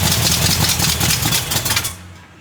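A 1957 Chevy Bel Air engine under restoration runs loudly with a rough, pulsing rhythm for about two seconds, then quickly dies away.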